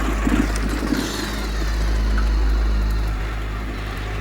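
A motorcycle engine runs at night, a steady low drone and rumble that stays close and fairly loud without clearly dying out.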